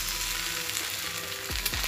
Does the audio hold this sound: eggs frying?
yes